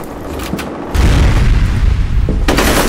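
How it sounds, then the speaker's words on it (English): A grenade explosion in the first-person shooter game FEAR Combat on PC lands as a sudden deep boom followed by a sustained low rumble, with a second sharp blast near the end. "Grenade out."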